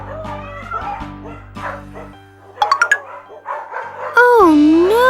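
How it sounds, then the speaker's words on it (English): Several dogs bark and yip in quick bursts, mixed with whimpers and whiny howls, close and loud, with a high whining cry at the end. "Soon, all the dogs were barking"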